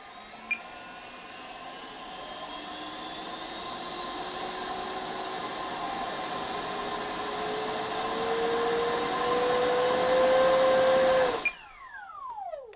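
An Arrows RC Viper 50mm EDF model jet's ducted fan whines indoors, its pitch climbing steadily as the throttle rises over about eleven seconds before it cuts off abruptly and spools down.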